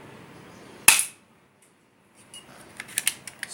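An MP900/M9A1 spring airsoft pistol with a thin metal modification fires a single sharp crack, followed after a pause by a scatter of light clicks and handling noises.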